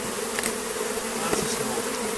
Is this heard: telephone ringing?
no